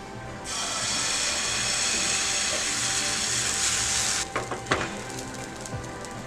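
Uttapam batter sizzling steadily in an oiled pan, a loud continuous frying hiss that ends abruptly, followed by a few clinks and scrapes of utensils.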